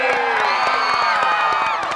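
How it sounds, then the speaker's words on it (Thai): A television studio audience screams and cheers loudly for a few seconds, many high voices merging into one sustained shriek, with a few sharp claps mixed in. "ขอเสียงกรี๊ดดังๆหน่อย"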